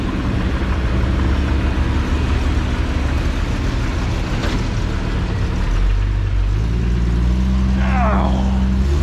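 Vehicle engine revving loudly as it drives through a mud pit, a steady heavy rumble throughout with a swell of power near the end, under shouted talk from nearby onlookers.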